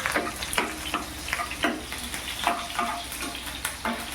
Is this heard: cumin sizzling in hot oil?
yes